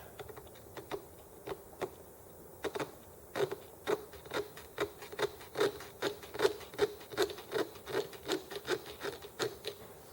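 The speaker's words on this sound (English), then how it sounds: "filing on the edge of that washer until we get a release" A file works the edge of a governor washer on an ET6 detent in close, dry rasping strokes that start sparse and settle into a steady, quickening rhythm of about two strokes per second, with no voices.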